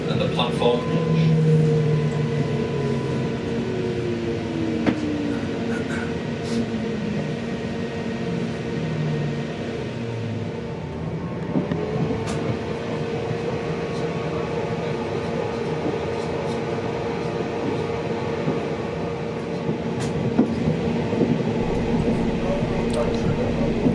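A train runs along a railway line near Eccles in the Manchester area, a steady loud rumble with rolling wheel and motor tones that drift and shift throughout, a voice speaking over it.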